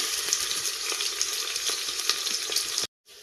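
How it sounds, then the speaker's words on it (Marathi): Chopped onion sautéing in a hot pan with bay leaf and cinnamon for masala rice, a steady close sizzle with faint stirring scrapes, cutting off abruptly near the end. "कांद्याला सोनेरी कलर येऊपर्यंत परतून द्यायचा आहे."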